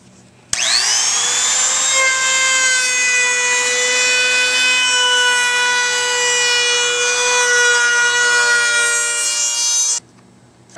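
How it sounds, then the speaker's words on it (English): A router rounds over the top and bottom edges of a veneer-topped longboard, giving a loud, steady, high motor whine that starts abruptly, holds for about nine and a half seconds, then cuts off, with no voices. "After you've got all the edges rounded over with that router"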